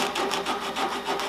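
Hand-sanding a wooden bow, a steady rhythmic rasping scrub with even back-and-forth strokes, close and clear with no talking.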